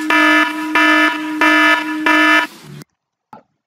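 A loud electronic alarm blares in four steady, evenly spaced pulses, then cuts off abruptly, followed by a brief faint sound after a moment of silence.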